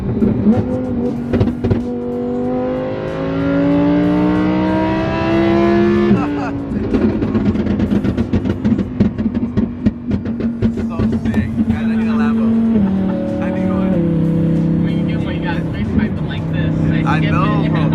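Lamborghini engine revving hard and accelerating, with loud rising whines that climb through gears, drop, and surge again, close and sustained, while people talk over it.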